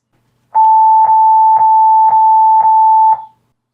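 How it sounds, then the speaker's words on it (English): An INAV flight controller sounds its battery critical low warning: six evenly spaced, loud, steady electronic beeps about half a second apart, each a pure sustained tone, with no other sound around them. "or the battery critical low,"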